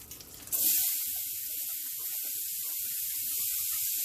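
Onions hit a hot pan of smoky oil and burst into a loud, steady hiss that holds for several seconds, close up with faint clatter beneath and no talking.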